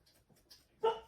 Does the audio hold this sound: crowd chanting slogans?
no